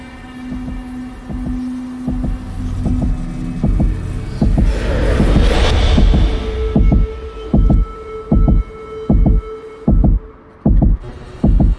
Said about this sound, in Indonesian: suara detak jantung gua apa gamenya